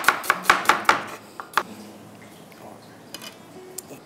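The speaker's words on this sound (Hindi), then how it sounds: "अनियन को हमने करना है सिंपल स्लाइस फॉर्म में कर लेना है" An onion being sliced with a knife on a board, a rapid run of sharp close chopping strokes followed by a few scattered cuts and quieter handling sounds.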